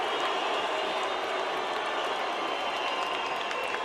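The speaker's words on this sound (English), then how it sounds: "Filipino fans booing Barrera as he tours the ring" A large crowd of Filipino fans at a boxing match booing Barrera as he tours the ring, a steady, loud, continuous roar of voices with no breaks.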